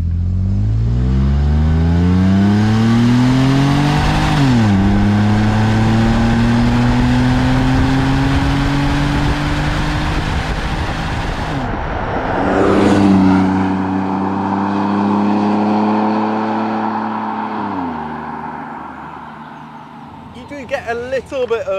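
A Lancia Kappa Coupé with the Busso engine and a 4-speed automatic accelerates under power, the engine note rising smoothly, dipping at each upshift, then climbing again, heard loudly from inside the car with a voice talking over it.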